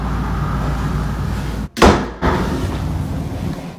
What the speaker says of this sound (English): suddenly the door slammed shut